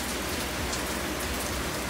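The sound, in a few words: rain falling on a garden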